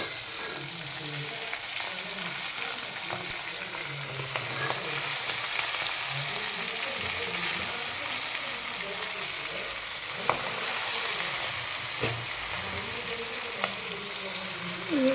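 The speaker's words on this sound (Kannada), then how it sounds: "ಈಗ ಮೆಂತ್ಯ ಪಲ್ಯ ಹಾಕೋಣ ಅಂತ." Fenugreek leaves (methi) sizzle and fry in a pan with a steady, continuous crackle that carries on throughout, with occasional stirring clicks and no voices.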